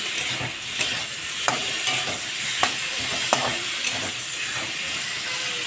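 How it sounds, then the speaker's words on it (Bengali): Spices with salt and turmeric stir-fry in hot oil, a continuous hiss and sizzle broken by several sharp scrapes of a spatula against the pan at uneven intervals. "এবার আমি একে একে নুন আর হলুদ দিয়ে দেবো দেখো আমি নুন আর হলুদ দিয়ে দিয়েছি ভালো করে কষিয়ে নেব"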